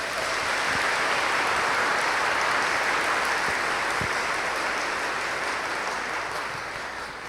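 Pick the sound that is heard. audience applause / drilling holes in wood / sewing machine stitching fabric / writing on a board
audience applause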